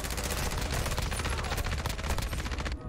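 Sustained automatic fire from the ISO 45 submachine gun in a first-person shooter game, a loud, dense, continuous burst of rapid shots lasting nearly three seconds before cutting off abruptly.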